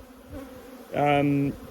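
A short, close honeybee buzz at a hive with a steady droning tone rises for about half a second over quiet background noise.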